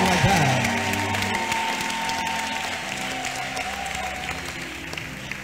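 Applause from a crowd at a French-language church broadcast, a steady sustained patter of clapping with faint voices and a held tone underneath, fairly even throughout.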